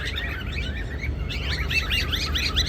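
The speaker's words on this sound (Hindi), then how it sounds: "इस कपिगृह में विभिन्न प्रकार के पक्षी हैं," Parrots and small birds sing in a zoo aviary at Kanpur Zoological Park, a continuous layer of chirps and tweets that grows busier and more overlapping partway through, heard over a steady outdoor hum with no talking.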